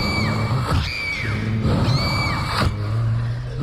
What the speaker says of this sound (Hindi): दर्द के मारे कलीथा जमीन पर बैठकर चिल्लाने लगी